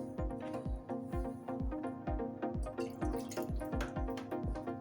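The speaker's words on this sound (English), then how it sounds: "I'm going to add a little water to loosen it up." Water trickles and drips into stiff pancake batter in a steady, rhythmic series of close, clear drops, alone without talk.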